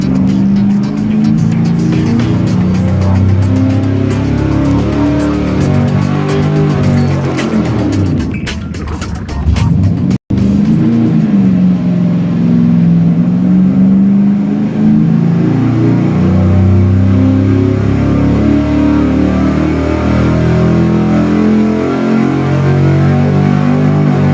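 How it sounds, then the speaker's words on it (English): Small block engine revving hard during dyno pulls, a loud sustained roar climbing and falling in pitch through repeated runs, briefly dropping before rising again, very close and continuous. "So looking at the average of the last 3 dyno pulls, which basically were identical"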